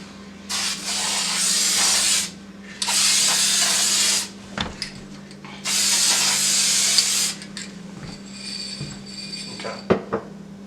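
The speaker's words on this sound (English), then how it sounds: "I'm going to go ahead and spray my activator." Three long hissing bursts of hydro-dip activator spray over a film on water for a Savage .22 Rascal rifle, each about a second and a half, separated by pauses, followed by faint clicks and handling noises.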